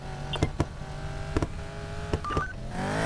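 A phone being dialed in the racing game Need for Speed Payback, with a few short separate tones and clicks over a steady electronic hum and a rising tone at the end.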